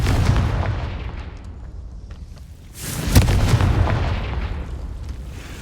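A Confringo spell explosion in Hogwarts Legacy bursts into dense, booming blasts with a rumbling low-end wash, easing briefly before a sharp, loud detonation hits mid-way and rolls on into sustained crackling thunder.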